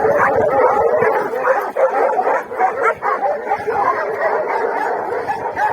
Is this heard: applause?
no